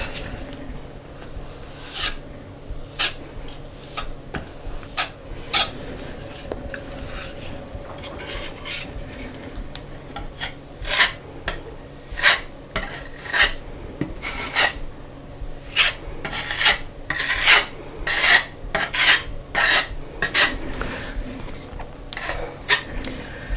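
Spackle being spread as a second coat on an interior wall, a steady scraping rasp of a putty knife with repeated rhythmic strokes close up, no talking.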